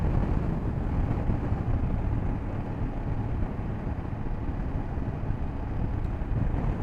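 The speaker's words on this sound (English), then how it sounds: "It is very windy today" Steady roaring wind buffets the microphone while riding a 2024 BMW F 800 GS motorcycle on a very windy day, a dense continuous rush with no voices.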